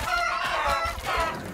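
Short burst of clucking, crowing-like chicken calls from the video game Undead Horde, loud and close with no speech over it.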